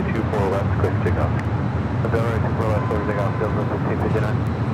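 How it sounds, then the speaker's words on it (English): An airliner taking off from runway 24 Left at Los Angeles International Airport, a steady, loud broadband roar of jet engines that continues under someone talking throughout. "Runway 24 left, quick takeoff."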